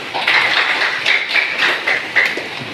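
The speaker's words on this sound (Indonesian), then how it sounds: "Silakan tepuk tangan" Applause from a group of students in a classroom during a teaching practice lesson, a dense, steady patter of many hands clapping together at close range for a few seconds with no talking.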